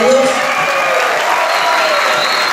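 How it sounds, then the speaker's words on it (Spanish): Dense clapping from an audience fills the short stretch with an even, sustained patter and no voices standing out. "Quiero meter fuerte las palmas a la cultura afroperuana."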